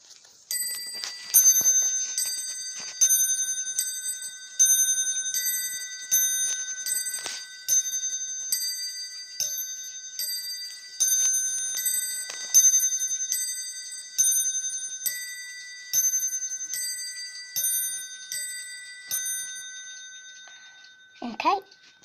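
A clock chimes at twelve o'clock with a bright, bell-like strike repeating in an even, ringing series, each stroke decaying before the next, and the sequence ends just before a short voice at the close.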